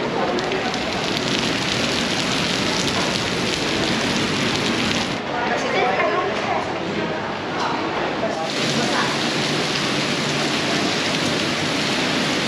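Rain falls steadily at tower 2 of the Sentosa cable car at HarbourFront, Singapore: a dense, even hiss of water that holds throughout, with a brief softer stretch in the middle.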